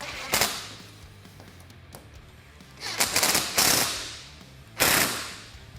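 A ratchet tightening the mounting hardware on a Kawasaki Teryx KRX 1000 UTV roof, a few sharp bursts of rapid close clicking separated by quieter pauses.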